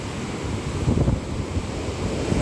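Strong ocean surf crashing at Mauban, Quezon, rough and roaring up close with continuous churning water and heavy wind buffeting the microphone; no talking.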